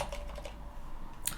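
Keys clatter on a computer keyboard while code is entered on a Linux machine, a quick run of close, light clicks at moderate level.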